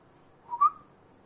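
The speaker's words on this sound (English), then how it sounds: "She only listens to me when I whistle." A short two-part human whistle calling a dog, rising then sharply peaking, clear and alone against quiet background.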